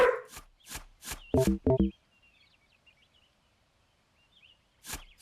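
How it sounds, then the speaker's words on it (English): A dog barks in a backyard, several sharp close barks in a quick run, then a brief pause and another bark near the end. "Sorry if you hear some barking as well."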